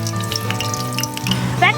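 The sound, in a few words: spices frying in oil for tempering goat head curry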